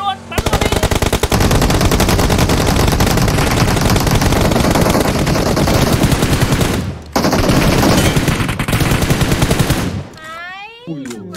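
Video game gunfire in PUBG Mobile: a dense, loud automatic burst rattles almost nonstop for about ten seconds, breaks off once briefly, then ends in fading sweeping effects.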